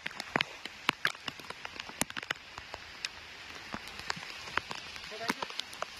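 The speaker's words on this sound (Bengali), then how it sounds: "বৃষ্টি হচ্ছে কিন্তু বন্ধুরা খুব।" Heavy rain pattering on surfaces outdoors during a fishing trip in the Andaman Islands, with dense irregular drips and sharp drop impacts throughout, moderately close and steady.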